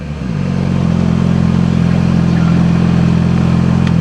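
A motorcycle engine with its exhaust removed idles loudly and steadily with a raw, unmuffled rumble, rising briefly at the start and then holding a constant throbbing drone.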